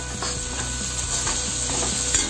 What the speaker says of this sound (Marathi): चिरलेलं पडवळ आपण या तेलावर चांगलं परतून घ्यायचं